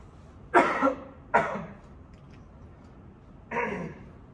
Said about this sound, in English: Excuse me, I'm going to clear my throat.